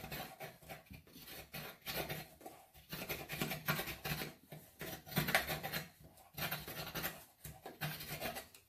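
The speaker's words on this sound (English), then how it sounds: "I'll take a pair of needle nose pliers and just kind of work it around." Needle nose pliers scrape and rub around the rough cut edge of an aluminum can for a DIY alcohol stove, giving a series of rhythmic rasping, scratchy strokes at close range with brief gaps between them.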